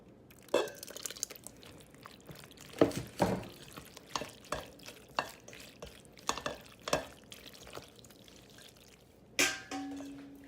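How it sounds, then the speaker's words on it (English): Cheese sauce poured onto macaroni noodles gives soft, wet glugs and squelchy stirring bursts, irregular and close, set against a quiet kitchen background. "Just pour a little bit at a time, just to make sure you know how much you want covered."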